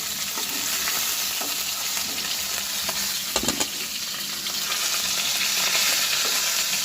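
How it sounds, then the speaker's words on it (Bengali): Fish shallow-frying in oil in a pan, a steady close sizzle and crackle throughout with a few brief spatters and stirring clicks, no voices. "আমি এই মাছগুলো ভেজে নেব আগে একইভাবে উল্টিয়ে দিয়ে ভেজে নেব হালকা করে"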